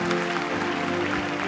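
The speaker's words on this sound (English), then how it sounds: "give them a great clap." An audience claps together in a steady, dense round of applause, sustained and fairly loud throughout with no pauses.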